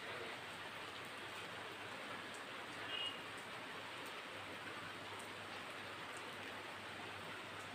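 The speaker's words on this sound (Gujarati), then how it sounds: "વરસાદ ચાલુ થઈ ગયો છે અને આમ જોઈ લો વરસાદ ચાલુ છે" Steady, soft rainfall makes an even, distant hiss that holds unchanged throughout, with one tiny brief click near the middle.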